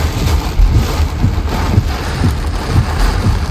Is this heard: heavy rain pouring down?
yes